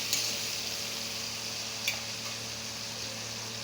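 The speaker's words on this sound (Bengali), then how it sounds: "তো পেঁয়াজটাও আমি লাল লাল করে ভেজে নেব, সোনালি রং ধরা পর্যন্ত একটু।" Onions fry in hot oil in a pan until golden, giving a steady, even sizzle that runs unbroken throughout with a couple of faint clicks of stirring, close and moderately loud with no talk.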